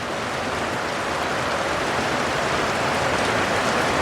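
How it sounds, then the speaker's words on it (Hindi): Heavy rain pours steadily at a vehicle starting point for Mall Road in Murree, a dense, even hiss of water drumming on surfaces that stays loud and constant throughout, with no talk over it. "बारिश बहुत तेज़ शुरू हो चुकी है"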